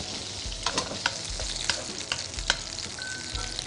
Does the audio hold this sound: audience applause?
no